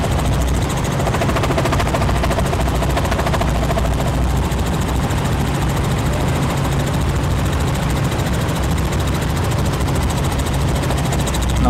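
A helicopter on a safari camp tour flies with a loud, continuous engine and rotor drone heard from close inside, steady and unbroken for the whole stretch.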